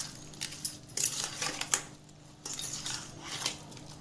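Raw chicken mixed with cloves, turmeric and ginger garlic paste for chicken fry, a spoon clinking and scraping against a metal bowl in quick irregular strokes, close and soft.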